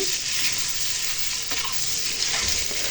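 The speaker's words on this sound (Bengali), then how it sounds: "এখানে আমি ডিমগুলো ভাজতে দিয়েছি হালকা ভাজা হলে এরপর উঠিয়ে রাখবো" Eggs fry in a pan, giving a loud, continuous close-up sizzle that crackles evenly throughout with no voices.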